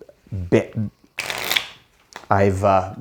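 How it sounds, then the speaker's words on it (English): A brief riffle of playing cards being shuffled, a quick papery burst between stretches of a person talking. "I can shuffle them again if you want to see"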